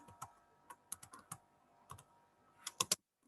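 Keys on a computer keyboard are pressed in a scattered series of crisp clicks, about a dozen taps spaced irregularly, with a quick double tap near the end, heard close and alone.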